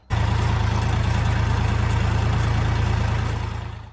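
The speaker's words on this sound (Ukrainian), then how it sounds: "Тому заводимо тракторця і погнали." A DTZ 5354HPX tractor engine starting and settling into a steady, loud, low diesel idle that runs evenly throughout before fading slightly at the end.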